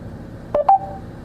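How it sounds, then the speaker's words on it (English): Two short electronic dialing tones beep in quick succession, clear and close, over a low steady background hum, from the Mercedes phone system of a Thor Delano Sprinter Class C motorhome placing a call. "Calling Kreider. John on the mobile phone"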